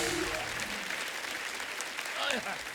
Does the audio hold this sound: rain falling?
no